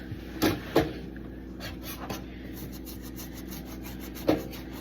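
A brush scrubs the grooves between the teeth of an item during kitchen decontamination, giving a few short, close rubbing strokes over a faint steady background, with no talking.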